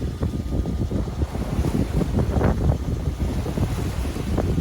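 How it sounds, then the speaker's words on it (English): A sailing yacht motors out of Tahanea, French Polynesia, into a very light headwind: a steady low engine drone runs throughout with wind buffeting and water wash around the hull, no voices. "Leaving Tanahea under motor against a very light headwind."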